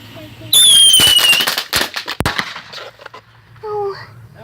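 A firework set off from a back porch bursts with a sharp, loud bang and whistling shriek, followed by crackling debris and a distant pop, while people shout and react nearby.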